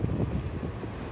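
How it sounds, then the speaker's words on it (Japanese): Sonic limited express train running past at a distance, a steady low rumble with faint rolling noise and some wind on the microphone, no talk. "先ほど通過したソニックが今行ってます。"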